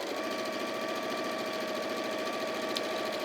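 A domestic sewing machine runs steadily, stitching fabric pieces together, its even motor hum and rapid needle rattle continuous and close throughout with no voices.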